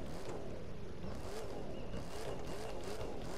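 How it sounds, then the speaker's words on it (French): A Mercedes C63 AMG exhaust rumbles in The Crew 2 racing game, a continuous low engine drone with slight wavering pitch, steady and fairly loud throughout. "Bon, les pots, ils vibrent bien."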